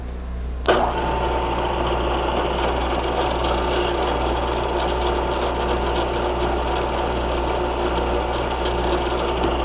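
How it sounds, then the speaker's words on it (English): A drill press center drilling a 1/4 inch hole for the central yoke of a camera jib: a steady, loud machine hum with a sharp start near the beginning, then continuous motor and cutting noise. "we're center drilling because we need precision a little bit more here, and it's going to be a 1/4 inch hole"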